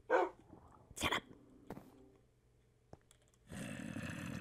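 A dog in a zombie video game lets out a few sharp barks and yips, separated by quiet gaps, followed by a louder stretch of game noise at the end.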